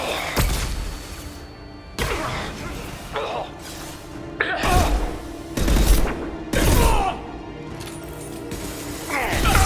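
Gunfire and impacts in the video game Mass Effect 2, a series of loud, close bursts and thuds spaced a second or two apart, with game voices speaking amid the combat.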